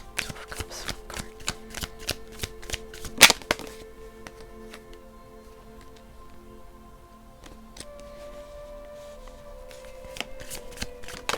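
Tarot cards being shuffled to draw a single card: rapid, crisp riffling flicks in quick close bursts, one sharp snap in the middle, then quieter handling and renewed flicking, with no talking.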